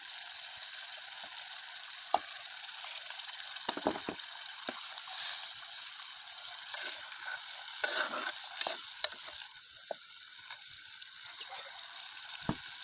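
Pepper and onion frying in a pot for a native tomato stew, a steady bright sizzle running throughout with scattered clacks and scrapes of stirring, close and fairly quiet.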